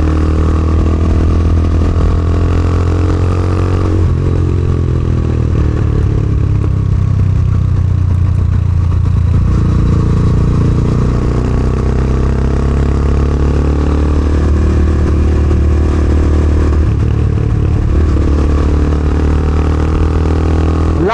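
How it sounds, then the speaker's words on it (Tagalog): A Motorstar Explorer 250GPR motorcycle engine rumbles steadily and loudly through a loud, chicken-pipe-style muffler, its deep exhaust note sustained close by with slight rev changes throughout. "Lakas din ang muffler niya, mga tulos, no? Parang chicken pipe eh."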